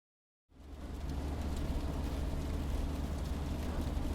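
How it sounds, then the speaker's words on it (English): A heavy downpour fades in after a short silence and settles into a dense, steady wash over a low, continuous car hum, with no voices. "From the ongoing downpour to the quiet hums of the car"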